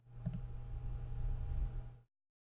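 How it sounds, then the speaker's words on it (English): A computer mouse clicks twice in quick succession near the start, light and close, over a steady low electrical hum with no speech. "Click Add at the bottom right."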